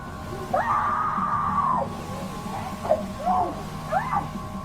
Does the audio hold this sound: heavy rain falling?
no